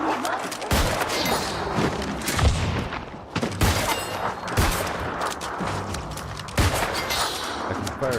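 Weapon firing five times quickly back to back in New World, sharp heavy shots in quick clusters separated by short pauses, loud and close, with someone talking between volleys.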